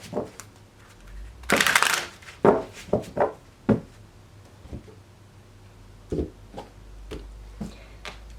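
Tarot cards being shuffled and riffled, with a loud burst of flicking followed by scattered taps and soft slaps of cards on a surface.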